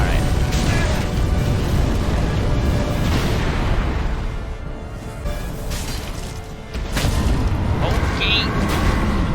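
Booming, roaring fire breath from the Nameless King boss in Dark Souls III, a loud sustained rush of flame and blasts that dips briefly before surging again, with a voice talking over it.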